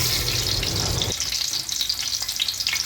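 Whole cardamom pods and cinnamon frying in hot oil in a cooking pot for chicken korma, giving a steady, close, loud sizzle that thins out slightly partway through.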